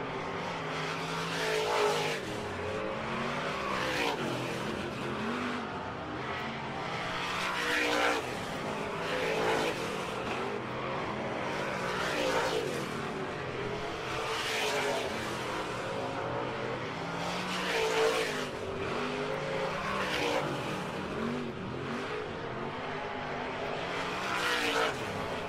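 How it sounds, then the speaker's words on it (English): Superstock race cars roar around a dirt oval during hot lap qualifying, engines rising and falling in a steady rhythm as each pass sweeps by, loud and continuous with no talk. "this is hot lap qualifying for the Pewter Hall Superstock"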